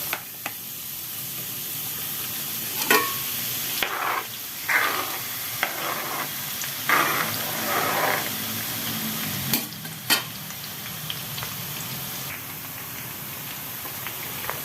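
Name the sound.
garlic frying in hot cooking oil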